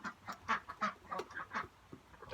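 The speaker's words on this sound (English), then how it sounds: "Yes, go, ducks." Ducks quack repeatedly in short, nasal bursts while walking over rocks near grass torn up for worms, the calls close and fairly loud with brief gaps between them.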